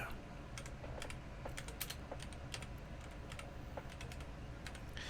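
Rapid, uneven keystrokes tap out on a computer keyboard, close and fairly quiet, forming a continuous run of light clicks with no talking.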